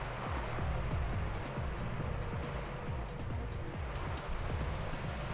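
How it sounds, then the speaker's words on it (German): Rain in the cycling game Pro Cycling Manager 2014 during a French race, the Grand Prix de Vitré, makes a steady broadband hiss. Low rhythmic whooshing from passing race traffic runs underneath. "Jetzt regnet es ja auch noch."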